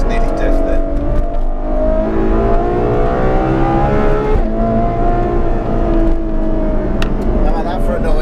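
A Ferrari F12 TDF's V12 screams at full throttle, loud and sustained with rising and falling pitch through gear changes, continuous throughout with voices talking over it.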